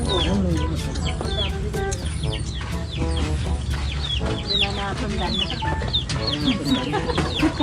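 Several chickens cluck and squawk close by in a busy, overlapping chorus, with occasional voices mixed in.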